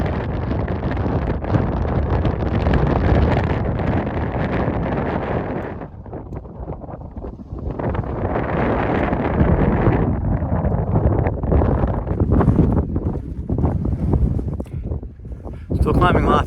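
Strong, cold wind on foggy Mount Lafayette along the Appalachian Trail buffets the microphone in loud roaring gusts, easing briefly partway through, with faint talk underneath at times.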